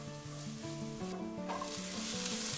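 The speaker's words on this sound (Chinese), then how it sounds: "干锅倒入油，油稍微热了过后，我们加入适量的蒜米，然后给它炒香" Minced garlic sizzles steadily in hot oil in a dry wok, a continuous close frying hiss with faint stirring sounds throughout, no voices.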